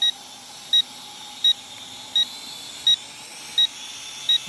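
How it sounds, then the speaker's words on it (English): A drone gives short, sharp electronic beeps about every 0.7 seconds as its battery runs hot, each chirp clear above a faint hum with no talking. "Don't mind the beeping. I think the battery's just getting a little bit hot."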